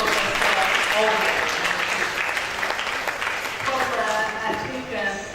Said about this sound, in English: Another round of applause for Professor Olga.